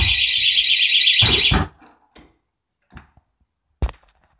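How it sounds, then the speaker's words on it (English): A loud, steady electronic alarm tone sounds when a car door is opened, blaring for about a second and a half before cutting off abruptly, followed by a few faint clicks and knocks. "We'll have that one of the pesty alarms here in a moment"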